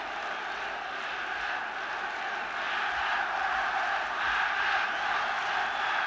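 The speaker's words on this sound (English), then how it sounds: "And again, the roars of this Irish crowd trying to inspire the men in the green shirts." Irish football crowd roaring in a stadium during a Northern Ireland v England match, a steady, broad wall of distant crowd noise that swells slightly toward the end.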